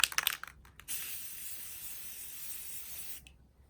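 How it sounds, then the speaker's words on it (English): An aerosol spray paint can hisses in one steady spray lasting a few seconds, close by, after a few quick rattling clicks at the start, spraying color for hydro dipping. "Then you spray in your next color."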